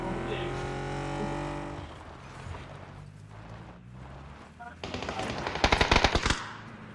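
Bursts of automatic gunfire from the battle royale shooter PUBG, a loud run of shots at the start, quieter exchanges in the middle, then a dense close volley near the end, with an engine-like drone underneath.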